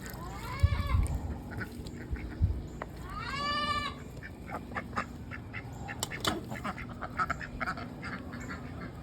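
Backyard ducks quack near running water, with a few loud nasal quack calls early on, then softer scattered calls and small farmyard noises under a faint steady water hiss.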